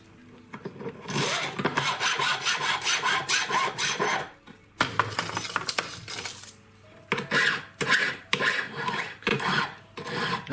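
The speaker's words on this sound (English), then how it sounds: "I'm filing a slightly rounded shape to the edge, just to soften it." Hand file rasping along the edges of a thin metal part for an articulated figure, rounding and softening the edge in quick repeated strokes, close and fairly loud with brief pauses between bursts.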